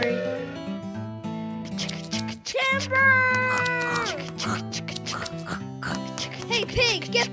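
A voice imitates a pig's oinking, repeated several times in a rhythmic series over a bouncy musical background.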